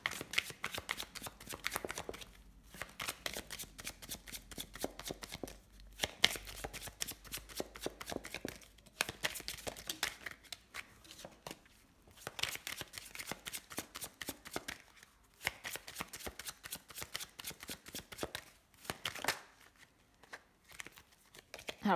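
Tarot cards being shuffled by hand in quick, crisp riffling bursts, repeated over and over with brief pauses between rounds, close and fairly quiet, with no voice over it.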